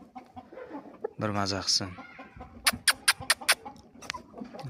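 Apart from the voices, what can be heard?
rooster clucking outdoors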